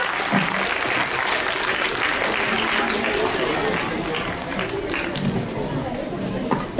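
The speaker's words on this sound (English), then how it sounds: "Can you have a huge round of applause for them?" A school audience at an interclass patriotic quiz competition gives a steady, dense round of applause that fills the room at full level from start to finish, with some voices chattering underneath.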